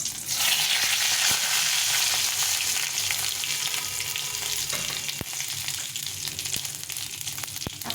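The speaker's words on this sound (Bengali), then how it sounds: "তেলটা গরম হয়ে গেছে এখন এই যে শুকনো লঙ্কা দুটো গোটা গরম মশলা জিরে আর তেজপাতা এটা দিয়ে দিলাম" Two whole dry red chillies, whole garam masala, cumin and bay leaf hit hot oil with a loud, dense hiss that eases slightly over time, broken by a few sharp spoon clicks against the pan.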